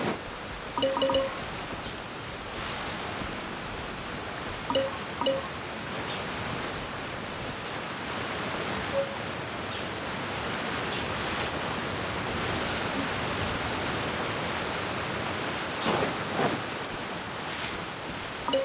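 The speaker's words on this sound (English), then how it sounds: "Oh, I don't like the rain." Steady rain in the video game Genshin Impact, a continuous broadband hiss like a downpour, with faint tonal game sounds and a few soft knocks popping up now and then, no voices.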